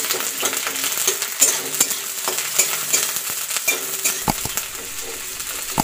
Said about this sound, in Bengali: আমি এখানে করে নেবো পেঁয়াজের বেরেস্তা